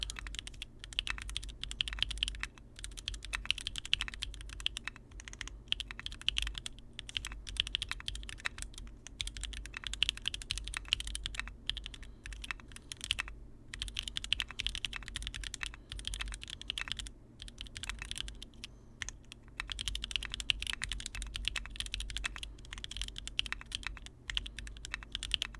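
Continuous typing on an Aeroboard70 mechanical keyboard, with a thin, clacky sound, dense, steady keystrokes close to the mic over a low background hum, with no talking.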